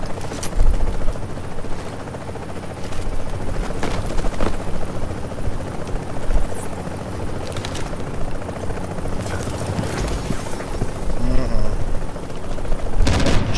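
Steady helicopter rotor drone with bursts of gunfire and sharp impacts, and occasional voices over the action.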